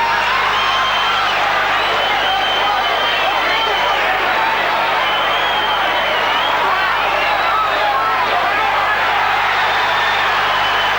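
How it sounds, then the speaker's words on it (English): Boxing crowd at the Alexis Arguello versus Aaron Pryor fight, a dense roar of cheering and shouting that stays loud and steady throughout with no breaks. "And the crowd cheering everything Arguello does."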